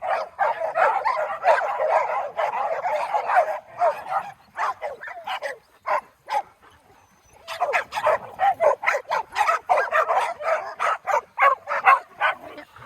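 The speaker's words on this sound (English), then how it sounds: "wait till they all stop barking" Several dogs bark over and over at close range in quick, overlapping bursts, go quiet for a moment, then start up again just as loudly.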